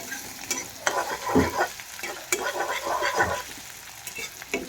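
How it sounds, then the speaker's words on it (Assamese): Chopped onion and green chili frying in hot oil in a home kitchen, a steady close sizzle broken by scraping stir strokes, with no talking. "পিঁয়াজ আৰু জলকীয়া কুটি লৈ ভাজি ল'ম"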